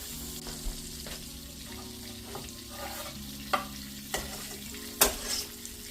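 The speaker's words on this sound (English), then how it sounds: "Alright, so this garlic with this butter in here, it's gonna saute this garlic for about 2 minutes." Minced garlic sautés in melted butter in a pan over medium heat, giving a steady close sizzle with occasional louder clacks of a utensil stirring. No voices.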